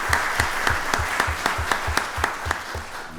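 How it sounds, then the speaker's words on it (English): A live audience at a county board of commissioners voting session claps steadily in appreciation of the Pearl program, with distinct, rhythmic group claps across the whole stretch and no speech over it. "Let's give the Pearl program another round of applause."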